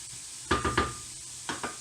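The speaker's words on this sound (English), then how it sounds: "always important to fry off the veg" Vegetables for a couscous risotto being fried off in a pan: a faint sizzle punctuated by a few quick scraping stirs and clinks of a utensil against the pan.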